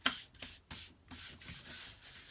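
A woodworking plane blade is rubbed across a 2500 grit sharpening stone in soft, close, rhythmic strokes. About five faint scraping passes are separated by brief pauses, and no voices are heard.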